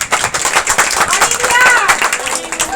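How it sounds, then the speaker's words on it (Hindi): A church congregation claps at a Sunday service in a quick, uneven patter of many hands. The clapping is moderately loud and mixes with voices. "जोरदार ताली बजाएंगे।"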